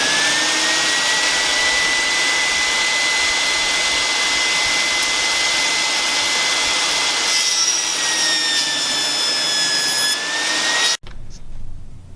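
A Craftsman EVOLVE 10-inch table saw runs with a loud, steady high whine as it cuts a wooden 2x4, its pitch dipping slightly under load before the motor cuts off abruptly near the end.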